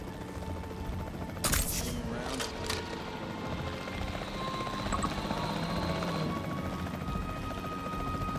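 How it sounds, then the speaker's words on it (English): Capture team helicopter in the video game Jurassic World Evolution 3, a steady rotor drone running throughout at moderate level, with brief sharp bursts like tranquilizer shots early on and faint voices in the mix. "The priority needs to be tranquilizing it with the capture team chopper."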